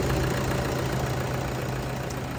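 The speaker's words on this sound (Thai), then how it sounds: "เสียงเครื่องดังนิ่มดังดีมากนะครับไพเราะสนุก" A 2013 Toyota Vigo Champ pickup's 2.5 VN diesel engine idles steadily, a close, even rumble with a faint knocking texture that holds without change throughout.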